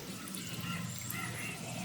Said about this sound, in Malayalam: ആ വെള്ളവും കൂടി ഒഴിച്ചേക്കാം